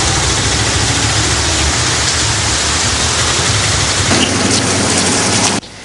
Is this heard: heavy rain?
yes